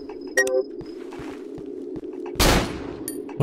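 A single loud gunshot in the Cry of Fear video game, a sharp close blast with a brief noisy tail, set against a quiet ambient hum and faint clicks.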